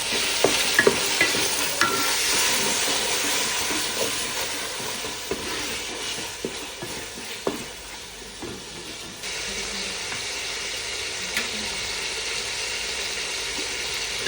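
Tomatoes and green chillies stirred in a hot pan for vangibath, with a loud continuous sizzle and occasional spoon scrapes and knocks, close up, with no talking.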